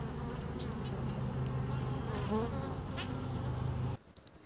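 Honeybees buzzing inside the hive, a steady dense hum of many wings held close and continuous, ending abruptly.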